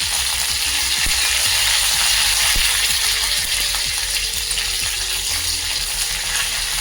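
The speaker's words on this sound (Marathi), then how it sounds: "अशी फोडणी बसली त्याला तडतडलं चांगलं" Mustard seeds crackle and pop in hot oil as a tempering for a tomato chutney: a steady bright sizzle dotted with quick, irregular snapping clicks, close and fairly loud throughout.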